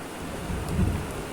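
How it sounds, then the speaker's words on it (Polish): Thunderstorm over a dark landscape, with steady heavy rain hissing throughout and a deep, loud rumble of thunder swelling in the middle of the clip, close and powerful, with no voices. "z tyłu burza wali głośne, głośne grzmoty"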